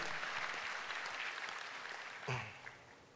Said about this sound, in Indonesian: Ayo kita tepuk tangan yang lebih meriah lagi bagi Kristus Yesus Tuhan.